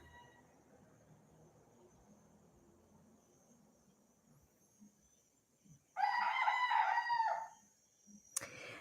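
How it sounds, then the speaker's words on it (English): Roosters crowing at night, one loud nearby crow bursting out after a quiet stretch of insect and cricket chirping, followed by a brief sharp crack. "Man, these roosters do not take a break,"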